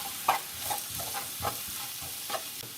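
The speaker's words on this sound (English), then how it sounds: "We'll give that a mix as well" Tikka curry powder being stirred into slow-cooked pork in a pan, with a spoon scraping in several soft, evenly spaced strokes over a faint steady sizzle, close and fairly quiet.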